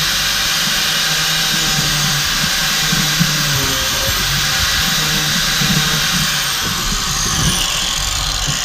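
A 4.5 inch angle grinder fitted with a chainsaw wheel grinds continuously into the rubber lugs of a dirt bike tire, a loud, steady high-pitched whine with rough scraping underneath and no talking.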